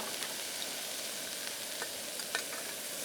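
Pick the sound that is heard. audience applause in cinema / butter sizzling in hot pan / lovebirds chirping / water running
butter sizzling in hot pan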